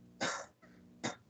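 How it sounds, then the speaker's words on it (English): A person coughs twice, set off by pressure on the rib cage; the first burst is longer and rougher, with a faint throaty rasp between it and a second short, sharp cough, all close and alone. "if I press here, I'm going to cough"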